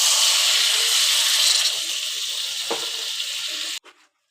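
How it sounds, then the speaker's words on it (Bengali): Water poured into a hot pan of fried potato and pointed gourd for a fish curry, a loud rushing hiss that settles into a softer bubbling sizzle before cutting off abruptly. "এবার দিয়ে দেবো জল পরিমাণ মতো।"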